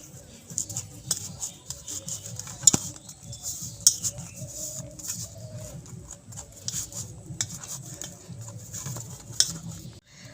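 Hands knead flour dough with white oil and small additions of water for crispy potato snacks, making soft, irregular squishing and patting sounds close by, fairly quiet and continuous, with occasional sharper clicks.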